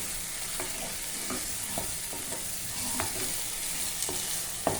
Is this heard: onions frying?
yes